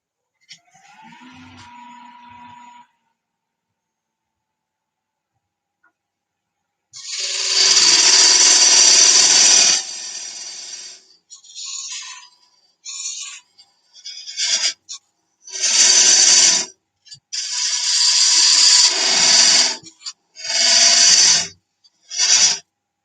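A wood lathe parting off a turned wooden box, heard as loud rasping bursts of the tool cutting the spinning wood in repeated passes separated by short pauses, after a faint quieter stretch at the start.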